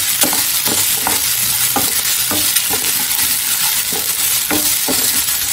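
Vegetables and tomato frying in a pan for rava kichadi, with a steady loud sizzle broken by repeated scraping and clinking stirs of a spoon against the pan.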